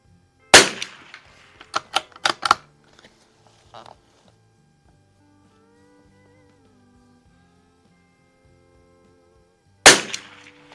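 Anschutz Biathlon 1827 .22 rifle firing Eley ammunition: one sharp, loud shot near the start, a few quicker clicks and clatters of the action, a quiet hum, then a second crisp report near the end.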